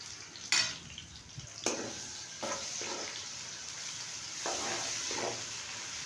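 Crushed garlic and ginger frying in a pan for radish bhujiya, with a soft steady sizzle broken by several sharp stirring scrapes and clinks at irregular intervals.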